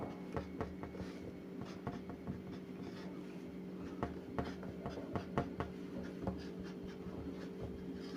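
Chalk or marker strokes on a board while a chemical structure is drawn, a series of faint, irregular taps and scratches over a steady low hum.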